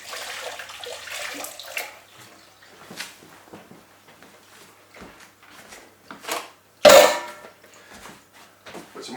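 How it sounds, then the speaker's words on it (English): Water is poured into a mixing bowl to soak it after making pie pastry, with splashy, uneven pouring and clattering in a quiet kitchen, ending in one louder rush of water. "Let's put some water in this mixing bowl."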